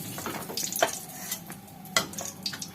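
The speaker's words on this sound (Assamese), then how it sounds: "এতিয়া মই পিঁয়াজখিনি মই ভাজি আছোঁ" Onions fry in a little oil in a wok, giving a soft steady sizzle broken by a few sharp scraping stir strokes and light clinks of a utensil against the pan, with no talking.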